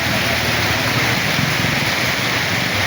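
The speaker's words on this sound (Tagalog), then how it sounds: "Lumakas na yung alon" Waves break at the shore of a highland resort with a rushing, constant roar of surf and water. The noise is loud and unbroken and covers the whole stretch, with no clear talk.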